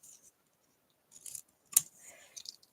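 Scissors snip paper for an origami Christmas card, with a few quiet, close cuts and one sharper snip between short silences.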